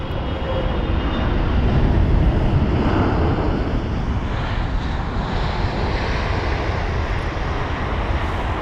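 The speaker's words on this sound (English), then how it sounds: "the arrival from Los Angeles LAX, a 9-hour and 51-minute long journey on board the 777-300ER" A British Airways Boeing 777-300ER landing at London Heathrow makes a loud, sustained jet roar that swells near two seconds and then holds steady, with wind buffeting the microphone and no talking.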